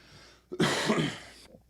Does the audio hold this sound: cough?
yes